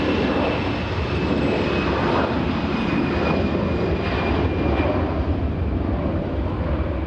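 An Air Tahiti Nui airliner taxis on the ground at Los Angeles airport, producing a steady, dense engine roar with a faint high whine running through it.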